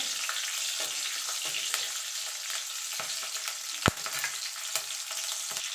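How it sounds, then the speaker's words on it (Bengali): Nigella seeds and green chilies fry in hot oil as a tempering, a steady close hiss and sizzle with occasional light taps and scrapes of stirring, one sharper knock in the middle. "এবার ফোড়নটা একটুখানি ভাজা ভাজা করে নেব।"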